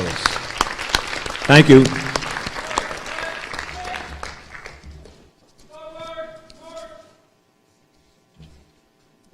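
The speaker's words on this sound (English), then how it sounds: "let's have a round of applause for our fine new explorers" Audience applause at a public forum on the opioid crisis, a burst of clapping that peaks loudly and fades out, followed by a brief spoken thanks from a speaker.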